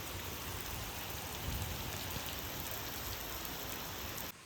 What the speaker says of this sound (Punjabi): ਬਾਰਿਸ਼ ਪੈਣ ਦਾ ਅੱਧਾ ਘੰਟਾ ਹੋ ਗਿਆ